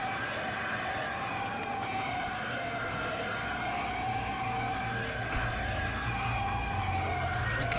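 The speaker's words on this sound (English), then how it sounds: "just the scream of that TIE fighter, that engine noise" A TIE fighter in Star Wars Battlefront screams past with a sustained, wavering high engine whine, steady and loud throughout, over a low rumbling game backdrop.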